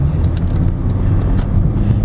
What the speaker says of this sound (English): We'll see how this economy car does over some rough California roads